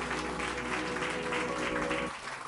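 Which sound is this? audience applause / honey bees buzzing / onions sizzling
audience applause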